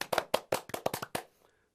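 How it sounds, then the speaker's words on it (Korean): Short burst of hand clapping from a small group celebrating a first live broadcast, about seven quick, close claps in a ragged rhythm that fade out after a second and a half. "여러분 응원의 박수 한번 부탁드립니다."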